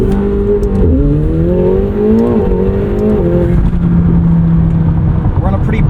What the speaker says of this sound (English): To me, this 4-liter V8 sounds a little bit more exotic than it did in the 720S